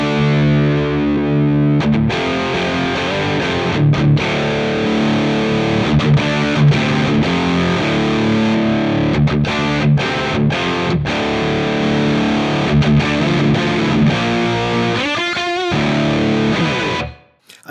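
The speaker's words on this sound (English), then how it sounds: "as I engage and bypass the pedal, you'll hear that coming on and off" Overdriven electric guitar playing continuously through an overdrive pedal run into an Ampero II, its distorted tone cutting in and out as the pedal is engaged and bypassed, with a brief rapid tremolo-like flutter near the end.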